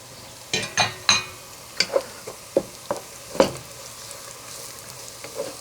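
Whole spices dropped together into a hot pan for red lentil soup, with a series of sharp sizzling bursts and stirring scrapes, loud and close, easing to a quieter fry.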